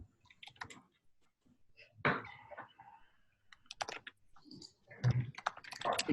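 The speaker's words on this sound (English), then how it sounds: "I'm typing it into the Telegram chat." Typing on a computer keyboard during an online call, heard as irregular bursts of close, crisp key clicks with short pauses between runs, fairly quiet overall and with no talking.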